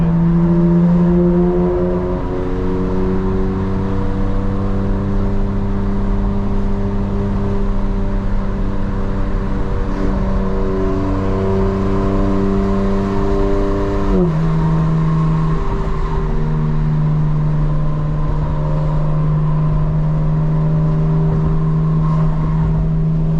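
A 2025 BMW M4 Competition drives along with a loud, continuous engine drone, its pitch wavering and rising gradually before dropping sharply midway as it shifts gear, then settling into a lower steady hum.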